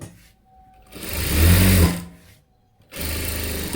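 A sewing machine stitches thread-work on a blouse sleeve in two loud, close bursts of rapid mechanical whirring, separated by a short pause.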